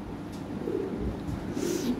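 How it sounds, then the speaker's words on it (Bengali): Large Lahori pigeons with long five-inch feathers coo in low, soft, throaty rolls, a steady close murmur repeating across the moment with a faint high chirp or two above it. "বিশাল সাইজের কবুতর।"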